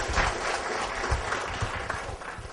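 A conference audience gives a brief round of applause after a web development session, a dense crackle of many hands with some low thumps, continuous throughout.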